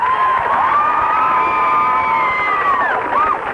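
A home crowd at a high school football game cheers a penalty call, a loud, sustained roar with whooping voices that holds steady for several seconds.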